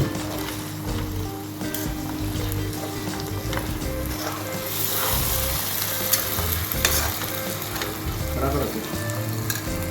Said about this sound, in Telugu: ఈ మసాలాని మనము నూనె విడిపోయేటంత వరకు ఫ్రై చేద్దామండి